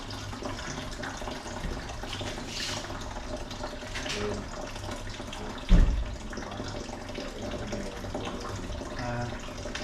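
Watery coolant trickles and splashes steadily as it drains from a Ford Mondeo 2.5 engine, a close, continuous pouring sound with one brief thump partway through.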